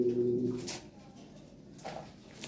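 A pair of toy Lahori pigeons coo softly at close range, a low burbling call at the start followed by quieter rustling and faint background noise.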